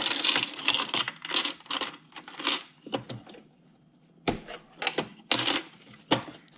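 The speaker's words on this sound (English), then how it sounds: "because I'm sewing my zipper down like this, I'm gonna put it on this side." A sewing machine fitted with a zipper foot stitches down a parka zipper in short bursts of rapid mechanical clatter, stopping and starting repeatedly with quiet pauses between runs, close and fairly loud.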